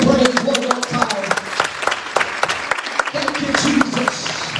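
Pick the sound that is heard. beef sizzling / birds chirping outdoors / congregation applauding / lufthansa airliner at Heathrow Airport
congregation applauding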